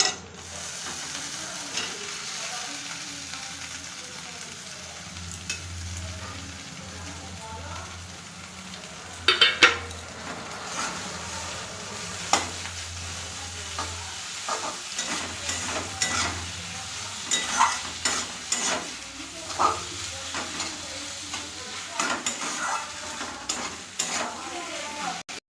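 Grated potato and paneer fry in a pan, a soft sizzle running beneath repeated spatula scrapes and clacks that grow busier and more rhythmic partway through.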